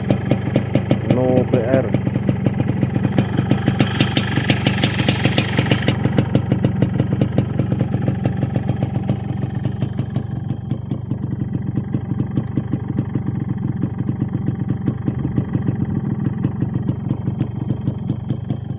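A 1996 Yamaha RX King two-stroke motorcycle idles close by with a steady, rapid pulsing putter throughout, and a voice speaks briefly over it.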